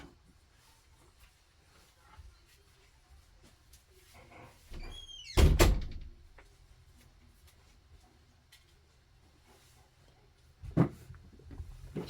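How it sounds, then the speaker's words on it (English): A door being shut in a quiet room at home: a sharp loud thud halfway through, then a softer knock later, set against low background hush. "I'm going to shut this door, guys."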